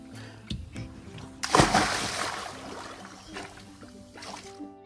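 A big splash as a person jumps from a rented pontoon boat into Patagonia Lake in Arizona, a sharp close plunge followed by sloshing and dripping water.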